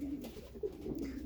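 Racing pigeons coo softly inside a loft, a couple of low, throaty warbling calls at close range in a quiet setting, with no one speaking.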